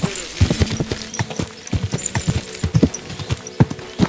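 Horse hooves clip-clop at a brisk, uneven trot on hard ground in Kingdom Come: Deliverance II, sharp and close, with a faint snort.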